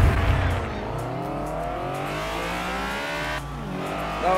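Honda S2000 in Forza Horizon launching off the start line at a race, engine revving hard through rising gear pulls with a brief dip before climbing again, loud and close, alongside other racing engines.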